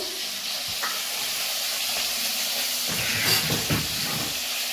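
A steady, loud hiss of escaping steam runs throughout from a pressure cooker boiling taro with elephant apple, with a few faint clatters and knocks nearby.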